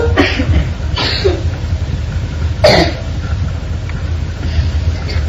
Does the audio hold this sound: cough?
yes